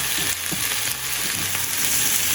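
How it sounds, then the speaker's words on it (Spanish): Onion and peppers fry in a pan, a steady broadband sizzle with soft stirring scrapes and small pops close to the microphone, with no voices. "yo comienzo por freír la cebolla"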